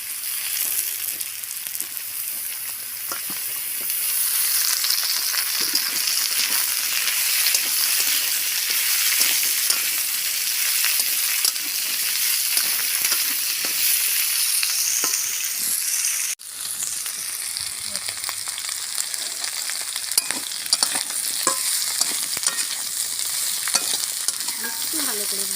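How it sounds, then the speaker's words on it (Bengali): Potatoes and vegetable stalks fry in mustard oil in a pan, giving a steady bright sizzle that runs on for the whole stretch, with occasional stirring scrapes and a brief dip midway. "এবার এর সঙ্গে আমি ডাঁটাটাও ভেজে নেব।"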